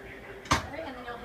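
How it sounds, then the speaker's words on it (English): A drawer on a CubeX cabinet shuts with a single brief, fairly close thud and clack, followed by a soft rattle that fades out in a quiet room. "and then close the drawer"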